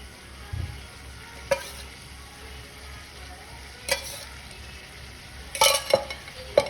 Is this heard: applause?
no